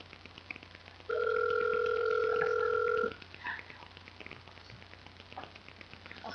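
A telephone rings in one steady two-tone burst lasting about two seconds over faint background hiss, then stops unanswered, with no voices.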